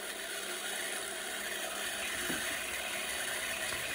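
A Janome sewing machine winding a bobbin produces a continuous mechanical whir with a faint ticking texture, steady and close, with no talking.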